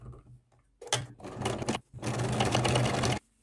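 Sewing machine topstitching along a seam in fabric, running in three bursts of steady rapid stitching separated by short pauses, the last and longest run loud and even.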